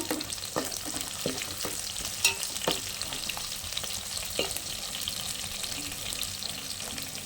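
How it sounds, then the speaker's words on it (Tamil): Onions sauté in oil in a pan for a dried fish curry, giving a continuous close sizzle broken by light spoon taps and stirring knocks. "இப்போ வெங்காயம் வதங்கிட்டுருக்கு இன்னும் கொஞ்சம் வதங்கட்டும்"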